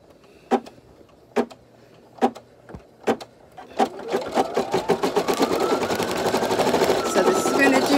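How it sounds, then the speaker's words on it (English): A Brother Innov'is NQ1600E embroidery machine stitches an outline and satin stitch: a few isolated mechanical clicks, then a steady, rapid, close needle rattle that builds and runs continuously to the end. "Does a little bit of an outline and then a little bit of a satin stitch over it."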